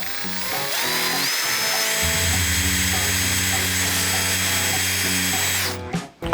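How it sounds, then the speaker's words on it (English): A power drill boring holes into the plastic side of a Harley-Davidson Touring tour pack, a steady high motor whine held for several seconds that drops in pitch as the bit bites, then cuts off abruptly. "When you're drilling these, just keep in mind you're drilling in plastic, so you don't have to push real hard."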